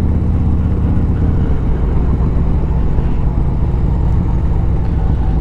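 A Harley-Davidson motorcycle fitted with a Rekluse auto clutch rumbles steadily while riding, its engine drone loud and close with constant low-end throb and wind noise throughout.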